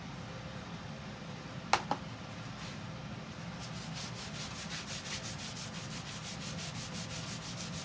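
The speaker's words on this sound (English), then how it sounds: "I'm just going to put a thin layer of this on." Clear paste wax being rubbed onto a painted sign with a microfiber towel, a soft steady rhythmic swishing that grows more regular, with a couple of sharp taps early on.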